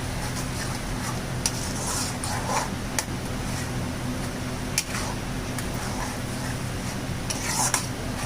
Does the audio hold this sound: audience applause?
no